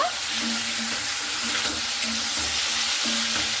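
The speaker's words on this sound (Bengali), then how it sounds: "এরপরে ঝিঙে আলুর সঙ্গে খুব সুন্দর করে মশলাটা আমি কষতে নেব" Ridge gourd and potato stir-fried with spice paste in a pan, a steady close sizzle with a few scraping stirs, no talking.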